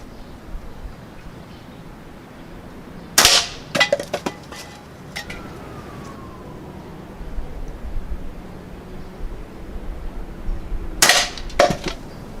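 An Umarex Ruger Superpoint .22 air rifle fires pellets at a block of wood and a can: two sharp, close cracks several seconds apart, each followed by brief metallic clinks and rattles against a quiet, hissy background.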